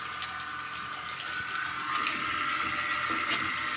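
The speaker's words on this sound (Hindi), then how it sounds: "ये देखो, ये हमारा डायरेक्ट सोलर पंप चल रहा।" A direct solar water pump runs and fills a tank, giving a steady rushing, gushing flow of water that swells slightly louder partway through, with a faint background murmur.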